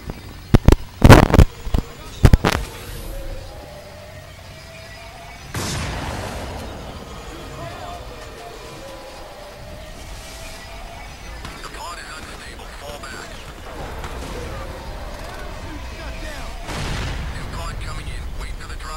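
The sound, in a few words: gunshots in the video game Crysis 3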